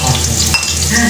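Garlic and onion sauté in a hot pan for chicken wings adobo, giving a steady loud sizzle with a faint scrape of stirring partway through.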